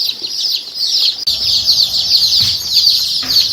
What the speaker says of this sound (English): It's probably kind of hard to hear me over all this chirping